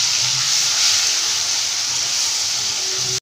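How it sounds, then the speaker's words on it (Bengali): Ground onion paste fries in hot oil with a loud, steady, close hiss that holds evenly throughout before cutting off abruptly. "তারপর আমি একটু বেটে রাখা পেঁয়াজটা দিয়ে দিচ্ছি।"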